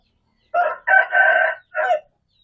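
A young five-month-old Ayam Bangkok rooster crows close by in a clear, broken call of several choppy syllables, loud against an otherwise silent background with no voices.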